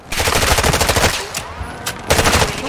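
Rapid automatic gunfire from the video game Call of Duty MW3, loud and dense bursts of machine-gun fire with brief gaps, close and dominant throughout.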